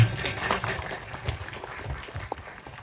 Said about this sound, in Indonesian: Tepuk tangan buat Gus Zaki